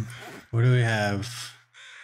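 A crow in the survival video game The Long Dark gives a single loud, harsh, drawn-out caw at close range, followed by a short burst of fainter noise.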